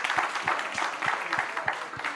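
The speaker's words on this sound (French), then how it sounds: "on peut l'applaudir aussi, Jean-Luc" Audience applause at a tourism professionals' forum, a short burst of clapping with a fairly regular rhythm of distinct hand claps, moderately loud and close.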